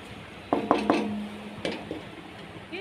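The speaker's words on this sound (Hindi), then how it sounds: "लिड हटाते हैं" A lid comes off a cooking pot of simmering tomato and potato curry with a few sharp metallic clinks and a brief ringing scrape, followed by quieter clatter in a calm kitchen.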